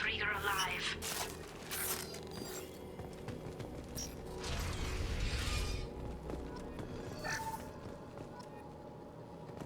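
In Mass Effect Legendary Edition, a sealed door unlocks with layered mechanical clanks, scrapes and ratcheting whirs that grind on for several seconds over a low hum, with scattered sharp metallic clicks.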